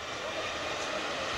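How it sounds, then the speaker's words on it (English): A Piper Cheyenne 400LS turboprop engine spools up at start with a steady, broad rising whine and rush of air, continuous and moderately loud with no voices. "As the engine spools up, the only protective measure necessary is to monitor the engine gauges for an over-temp condition"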